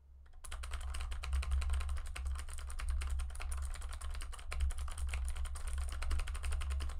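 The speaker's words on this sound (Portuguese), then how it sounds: "o quanto esse microfone capta do barulho das teclas de um teclado" Steady, rapid clacking of keys on a mechanical keyboard, close up and continuous, with a low hum underneath and no voices.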